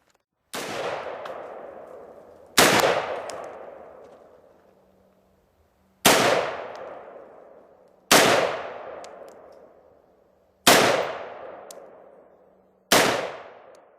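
Six single gunshots from an XM177E2 AR-15-type rifle, each a sharp loud crack followed by a long rolling echo that fades before the next, spaced roughly two seconds apart outdoors.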